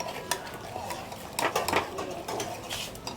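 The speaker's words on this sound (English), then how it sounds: "So you stir fry the pepper with the cube and the oil" Pepper stir-fried with a stock cube and red oil, with spoon scraping and clinking against a pot in an irregular stirring rhythm, close and moderately loud.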